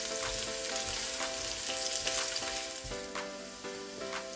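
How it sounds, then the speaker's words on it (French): Onions hiss and sizzle as they hit hot oil, a steady close frying crackle with occasional stirring scrapes, no voices. "Nous allons chauffer juste notre huile et nous allons verser nos oignons."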